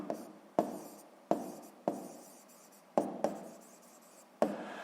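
A pen taps and scratches on paper while numbers are written out for a sixth-grade math exercise, with distinct sharp strokes recurring every half second or so, close and quiet.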